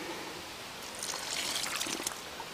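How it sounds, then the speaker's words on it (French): A little more water is poured into a bucket of carp groundbait being mixed for a feeder. A soft, close trickle and splash swells for about a second in the middle, then fades, with no voices. "encore un tout petit peu d'eau"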